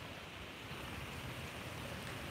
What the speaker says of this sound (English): At least the waves sound beautiful, huh?